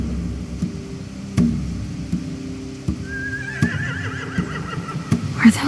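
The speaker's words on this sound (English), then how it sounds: "They have horses." Horses in The Walking Dead: The Final Season video game give a loud rising whinny midway, with soft clip-clop hoof thumps and a low steady ambient bed around it.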